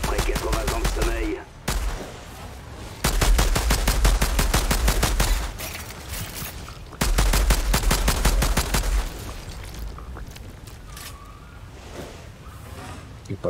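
Gunfire from weapons in the video game Outriders, with two long bursts of rapid automatic shots, loud and close, separated by short gaps, then quieter game sounds. There is some talking in the background.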